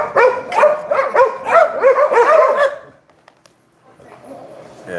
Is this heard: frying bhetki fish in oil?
no